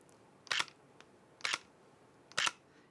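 Electronic front curtain shutter on a compact hybrid camera firing three times, each a short crisp mechanical snap close to the microphone, spaced about a second apart in a quiet room.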